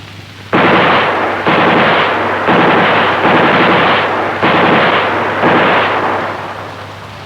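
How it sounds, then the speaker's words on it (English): A 1960s Saab pneumatic machine gun simulator for Swedish Army training fires six loud, sustained bursts of harsh blasting noise, each lasting about a second, separated by brief pauses. "The pop-up target can be combined with the machine gun simulator, which has pneumatic sound generation."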